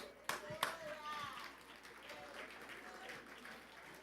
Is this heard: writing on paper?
no